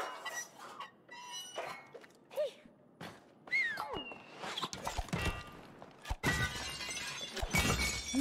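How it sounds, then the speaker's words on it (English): Glass shatters in the co-op video game It Takes Two, crashing in bright bursts with scattered squeaks and footsteps, the breaks growing louder and denser toward the end. "He's over here breaking glass."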